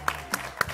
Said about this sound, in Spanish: Que el chef merece un aplauso.